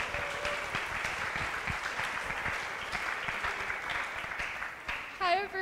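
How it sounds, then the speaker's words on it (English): Audience applause at a school closing ceremony, a steady wash of many hands clapping at moderate distance, with a whistle-like tone near the end. "Round of applause for San Francisco."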